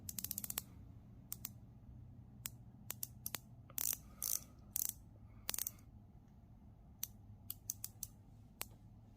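Rotating bezel on a Timex Data Link 69940 watch, producing sharp, quiet ratcheting clicks, some single and some in quick bursts, close up against near silence.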